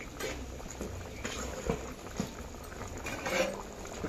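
Chicken curry with added spice powder simmers in a covered pot, giving a soft, steady bubbling and faint popping with a few small spits, low and continuous.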